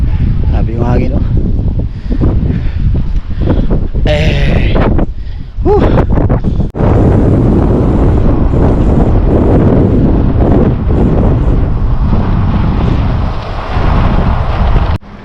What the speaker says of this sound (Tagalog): Mahangin, windy, pero kakayanin.